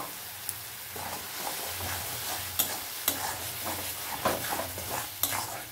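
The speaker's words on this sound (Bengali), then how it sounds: "এবার আমি এর মধ্যে দিয়ে দেব পেঁয়াজ রসুন পেস্ট।" Onion and garlic paste frying in tomato paste in a pan, a soft continuous sizzle with repeated stirring scrapes and occasional utensil taps, close and quiet.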